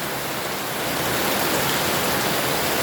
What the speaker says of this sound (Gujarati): જામનગર શહેર વરસાદ ચાલુ થયો છો મિત્ર